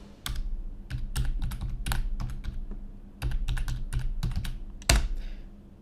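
Fingers type a phone number into a chat on a computer keyboard, close and clear, in quick clattering runs broken by short pauses and ending on a firm keystroke.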